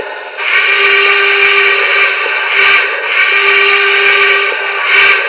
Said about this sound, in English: So here's the whistle that it came programmed with